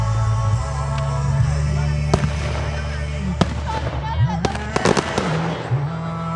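Fireworks burst low after a misfire, several sharp bangs and crackles scattered over a constant low droning hum, with people talking nearby.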